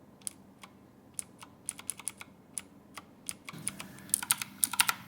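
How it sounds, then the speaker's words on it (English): Clicky blue-switch keystrokes on an IQUNIX mechanical keyboard, a steady run of sharp, close clicks typed at an uneven rhythm that grows quicker and louder toward the end, with no voices. "I will start with the most clicky blue switches. You can hear and feel clear when the keystroke is registered."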